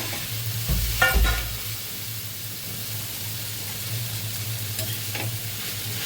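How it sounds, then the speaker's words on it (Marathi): Onion and tomato cooking in a pan as masala dosa filling, a soft steady frying hiss with a clatter of stirring early on and a few faint clicks later, close and without talk. "भाजी आता याच्यातून टाकते कांदा टमाटो शिजला आपला मस्त त्याच्यातली भाजी टाकते"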